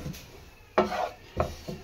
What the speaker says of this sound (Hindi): अच्छी तरह से बेसनों को भून लेंगे।